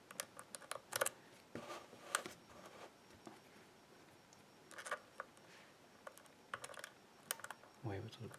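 Lock picks work the pins of a WILKA 5-pin dimple lock with faint, sparse metallic ticks and clicks scattered over quiet room noise, close and small, with no speech.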